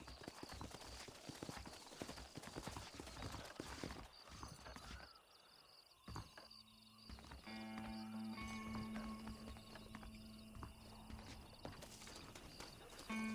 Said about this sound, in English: Get away from them horses.